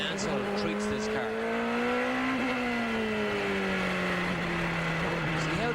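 Indy race car from a 1993 race, engine driven gently in the rain, a steady droning whine rising and easing slightly in pitch as the throttle is fed in softly, under continuous commentary.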